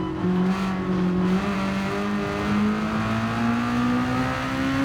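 Race car in Gran Turismo 7 at the Red Bull Ring, its engine holding a loud, steady drone that slides downward in pitch as it brakes, with no voices over it.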